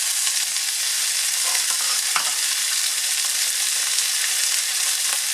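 Beef stew meat sizzling loudly in a pot as it browns and is turned, a constant dense frying hiss with a few soft stirring scrapes, no talk.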